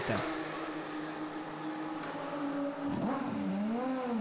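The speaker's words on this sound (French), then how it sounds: "Et ça repart pour cette Aston Martin numéro 100" The Aston Martin Vantage GT3 race car, number 100, pulls away at Spa with a steady engine drone that rises into climbing rev tones toward the end, alongside other running engine noise.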